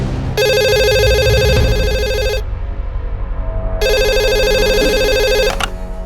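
Telephone ringing at a surgical instruments dealer in north central Mumbai: two long bursts of a loud electronic ring separated by a pause, with low room noise underneath.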